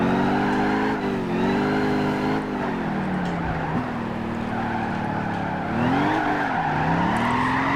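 A truck drifting in Gran Turismo 5, its engine droning steadily while tires squeal continuously with shifting pitch, loud and close throughout with no talking.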